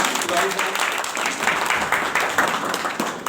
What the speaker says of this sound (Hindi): सर का एक बार जो वेलकम करते हैं तालियों के माध्यम से